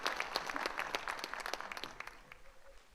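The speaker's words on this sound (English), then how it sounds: "Everybody give a good round of applause, Jennifer West, the film commissioner." A theatre audience at a 2021 film premiere in Sacramento gives a round of applause, dense clapping that fades out over about three seconds.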